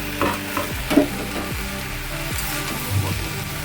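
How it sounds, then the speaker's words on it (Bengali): Ivy gourd greens and bori are stirred in a pan over a soft continuous sizzle, with a few distinct scrapes and knocks of the spatula, close and without talk. "এবার এর সাথে আমি বড়িটাও অ্যাড করে দিলাম দিয়ে এবার একটু নাড়াচাড়া করে"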